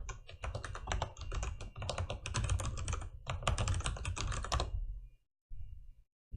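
Rapid keystrokes clatter on a computer keyboard as an nslookup command is entered, in quick close-up bursts of clicks that stop abruptly near the end, with one short final tap.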